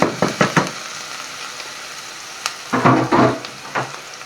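Crackling sizzle of onion frying in a saucepan, with bursts of stirring and scraping, close and fairly loud.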